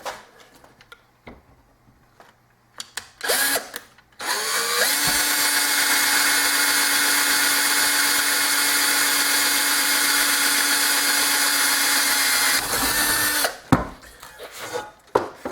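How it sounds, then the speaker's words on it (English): A power drill whirs at a steady high pitch for about eight seconds, close and loud, with brief clicks and handling noises before and after. "You take your drill"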